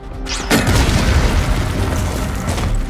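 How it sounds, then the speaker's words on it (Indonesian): A bomb trap goes off in the action film Silent Night, a single loud, sudden explosive boom that bursts in and then rolls on as a heavy, sustained rumble. "mereka termakan jebakan bom yang dibuat oleh Brian tadi"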